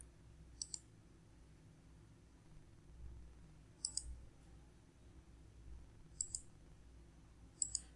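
Mouse right-clicks while working on a 3D mechanical part in AutoCAD: four sharp, quiet clicks spaced a few seconds apart over a low steady room hum, with no talking.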